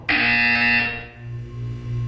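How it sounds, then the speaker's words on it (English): A loud electronic buzzer from the Portal 2 test chamber blares as a single sustained tone for about a second, then trails into a steady low hum, with no talking. "When you hear the buzzer, look down at the floor."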